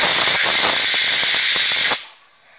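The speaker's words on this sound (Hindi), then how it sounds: "एक सीटी आ चुकी है, गैस का फ्लेम हम ऑफ कर देंगे" Pressure cooker whistle on a gas stove while cooking vegetable pulao made with milk: a loud, close, steady hissing jet of steam with faint pulsing, lasting about two seconds before cutting off sharply.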